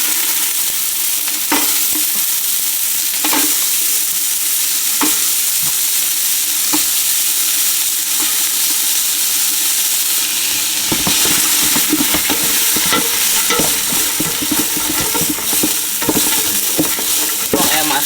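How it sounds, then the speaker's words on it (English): Onions and celery sauté in hot oil for chitterlings, a steady close sizzle with occasional stirring scrapes that grow busier and louder toward the end, no talk. "We're just gonna saute this down for about 2 to 3 minutes."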